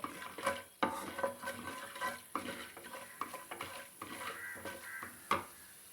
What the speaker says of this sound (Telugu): ఇవన్నీ వేసుకొని మంచిగా ఫ్రై చేసుకోవాలి